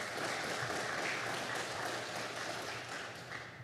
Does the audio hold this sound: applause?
yes